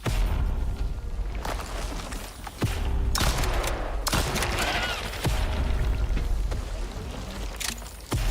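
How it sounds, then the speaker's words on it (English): A fire gun firing in the ICARUS survival game, a string of sharp shots spaced a second or so apart with a rushing, crackling burn between them, loud and close with no talking. "This is our fire gun, yeah."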